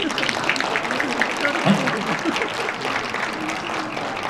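An audience claps in a continuous wash of applause before a yosakoi dance team performs, loud and close with a voice speaking over it.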